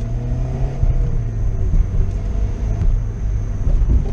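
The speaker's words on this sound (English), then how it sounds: "It sounds like a drive shaft. CB joint?" A car with a suspected failing drive shaft or CV joint rolls along with a loud, low rumbling drone and a rough, uneven hum from inside the cabin, no talking.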